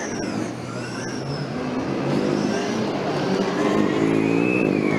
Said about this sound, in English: we enjoy the very pleasant engine sound of the black car from Regensburg